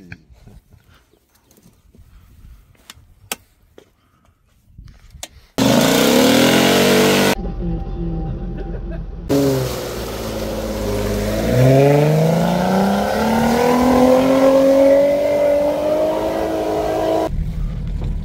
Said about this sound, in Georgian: ეხლა Toyota-ს დაბმული ყავს უკან ორი მანქანა ყავს დაბმული უკან